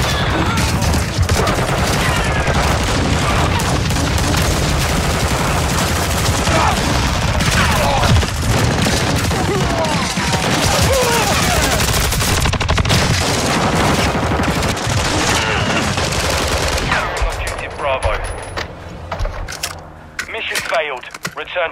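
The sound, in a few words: gunfire in video game Call of Duty Modern Warfare 2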